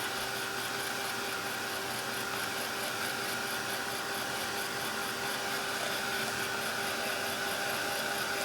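A hair dryer blows on wet acrylic paint, a steady loud whirring hiss that runs unbroken from start to finish.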